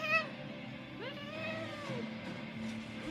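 A cat meows several times, with rising and falling tonal calls close to the microphone. The meows sound over a low, steady background hum.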